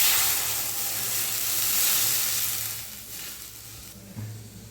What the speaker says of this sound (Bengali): কড়াইয়ের মধ্যে দিয়ে দেবো জল।